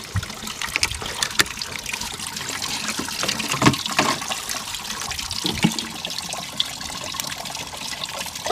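Water draining out of a Sea-Doo GTX DI jet ski, a close trickling and splashing stream with irregular gurgles and drips, no talking.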